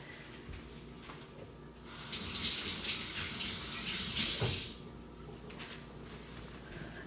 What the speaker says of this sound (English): I gotta go wash this egg.